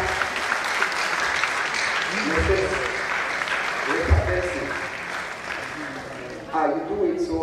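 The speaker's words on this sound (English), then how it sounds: "I would like you to recognize with a mighty hand clap the presence of the Vice" Sustained hand-clap applause from a large audience at a college of engineering public lecture, a dense steady roar of clapping with voices cheering and talking over it.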